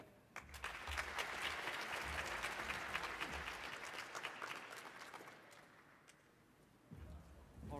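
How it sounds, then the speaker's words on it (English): An audience applauds after short research flash presentations, a steady crowd of clapping hands that fades after several seconds, then a fresh burst of clapping starts near the end. "I'm going to ask one more round of applause for everybody that got up today"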